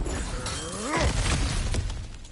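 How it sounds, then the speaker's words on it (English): Objects shatter in the video game God of War Ragnarok: rising and falling tonal sweeps end in a loud, crashing break that rumbles and fades away. "back to smashing through things for fun and profit"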